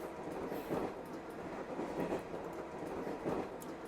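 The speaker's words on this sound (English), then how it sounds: "Man, this train noise is just really annoying." Steady rumbling train noise from the Memories Off video game, a continuous rail clatter with soft rhythmic swells of wheels over track, close and fairly loud with no voices.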